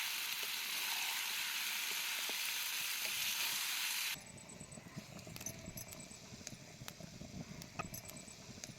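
Chicken in masala sizzles and fries loudly in a kadai, the hiss dropping to a softer crackle halfway through, with occasional utensil clinks.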